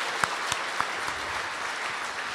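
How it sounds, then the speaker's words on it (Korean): A seated audience at a CEO forum in a Seoul business district claps in a soft, even patter of applause, heard from a distance and sustained throughout. "여러분 저 말에 동의하시면 크게 박수 좀 부탁드립니다"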